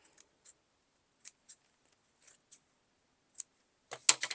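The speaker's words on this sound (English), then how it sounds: "cut your threads" Scissors snip threads on a small zipper pouch, a handful of quick, crisp, close snips spaced apart in near silence, ending in a brief cluster of louder cuts.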